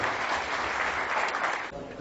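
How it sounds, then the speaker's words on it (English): Convention audience claps to welcome a speaker, a dense, loud burst of applause filling the room that holds steady, then drops off near the end. "Let's give him a round of applause."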